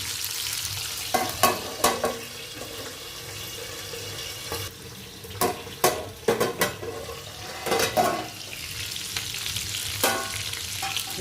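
Stuffed calamari frying on a low gas flame, with a steady soft sizzle broken by sharp clattering bursts as the pieces are flipped and moved around in the pan. No talking.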